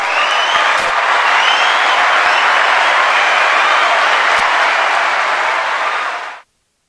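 An audience applauds to welcome author Emmanuelle Soulard, a steady, dense wash of clapping that holds evenly for about six seconds and then cuts off abruptly, with no voices on top.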